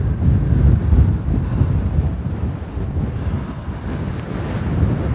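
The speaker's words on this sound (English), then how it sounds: "Oh, this wind is not the business" Strong wind at a viewpoint in Theodore Roosevelt National Park, North Dakota, roaring and buffeting across the microphone in loud, continuous low gusts with no voices.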